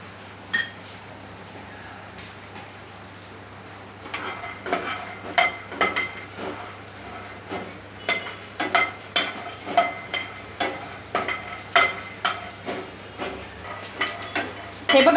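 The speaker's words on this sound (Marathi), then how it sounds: "इथे आता आपण शेंगदाणे भाजून घेऊया।" Peanuts dry-roasting in a pan, quiet at first, then a run of rhythmic scraping and rattling strokes as a spatula stirs them, close and fairly loud, with no talking.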